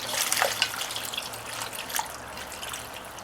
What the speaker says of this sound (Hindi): और आप साथ में पानी भी ऐड कर लें।